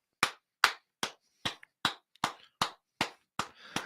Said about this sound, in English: Let's give him a good clap.